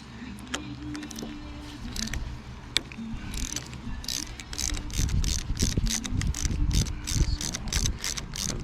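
A puller being tightened on a worn jaw coupling of a log splitter during restoration, giving a run of close, rapid ratcheting clicks that grows louder and denser in the second half.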